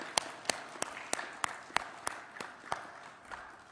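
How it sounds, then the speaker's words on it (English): Audience applause at a government agreement signing in Nairobi, a room of clapping with sharp, evenly spaced loud claps from one nearby person standing out over the softer crowd wash. "You can give them a round of applause"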